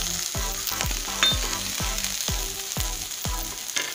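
Onions and curry leaves sauté in a pan for a rice dosai filling, a steady close sizzle broken by regular scraping stirs roughly every half second, with no talk.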